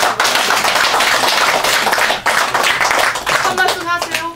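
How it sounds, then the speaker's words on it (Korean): Audience clapping at a ceremony for a civic legal group's anniversary and appointment event, loud and close, steady rhythmic claps from many hands with voices and cheering mixed in toward the end. "다 같이 다시 한번 박수 보내주시고"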